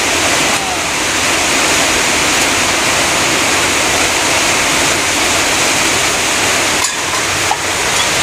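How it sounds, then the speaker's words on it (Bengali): Heavy, steady rain roaring without a break, dense and loud throughout, with a faint knock near the end. "মুষলধারে বৃষ্টি নামছে, মুষলধারে বৃষ্টি"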